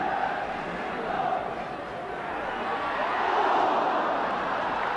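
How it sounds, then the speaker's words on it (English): Steady, distant roar of a football crowd at a 1978–79 Wolves match, encouraging the home side, a broad sustained murmur swelling slightly, with commentary voice over it. "The crowd giving Wolves the encouragement they need, perhaps scenting another revival."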